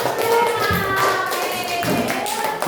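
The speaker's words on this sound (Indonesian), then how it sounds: "Tepuk tangan dulu untuk kelompok." Students in a classroom clap for a group that has just presented in a coding lesson, a lively burst of close hand claps that stays steady for a few seconds.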